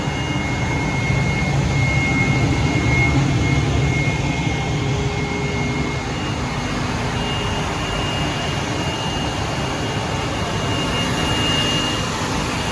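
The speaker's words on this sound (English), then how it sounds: "This is a hot air blower, and this one is the small one is the hot air blower." A hot air blower on a stainless steel brushing and non-woven brush surface finishing line gives a loud, steady roaring whoosh that holds unchanged throughout.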